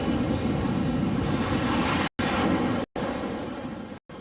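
A jet plane comes in to land on the aircraft carrier USS Ronald Reagan with a loud, continuous roar, broken by brief abrupt cuts.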